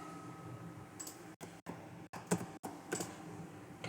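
Keys tapped on a computer keyboard while a table name is entered during an SQL database lesson, a steady run of light close clicks with a few brief pauses, no voices.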